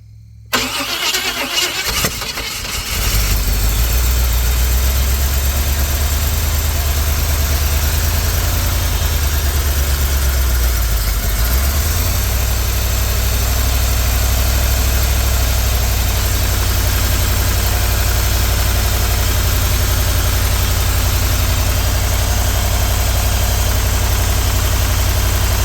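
A freshly built 388 stroker V8 in a solid-axle-swapped S10 Blazer cranks and fires, then settles into a loud, steady, rumbling idle with a brief dip in revs around ten seconds, running on alone.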